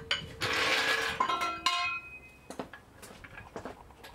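A car jack being lowered under an Opel Corsa C: metallic mechanical clanks and ratcheting clicks, a sustained grinding rattle followed by scattered sharp knocks, close by with no talking.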